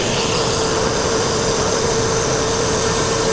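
A Mercruiser 383 MPI boat engine running steadily while a fuel treatment is poured in during a power tune, giving a constant, loud, unbroken roar with a faint tonal hum and no talk.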